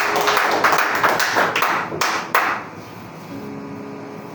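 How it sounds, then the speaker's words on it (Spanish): A church congregation applauding during a morning service, a burst of dense, loud group clapping that thins out and fades after a couple of seconds, leaving quiet room sound. "Dale un fuerte aplauso al Señor en esta mañana"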